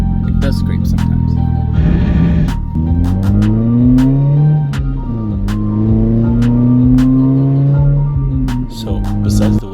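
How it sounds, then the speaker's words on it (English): A Mazda Miata's engine hums and shifts pitch while a short, harsh scraping noise of a wheel rubbing cuts in early on; a voice can be heard over the engine. "Ooh, it does scrape sometimes."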